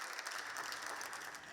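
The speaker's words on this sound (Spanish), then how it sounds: "El hemiciclo se despidió de esta legislatura con un anómalo aplauso unísono" Unanimous applause filling the Castilla y León parliament chamber, a brief, faint, steady wash of clapping with no voices.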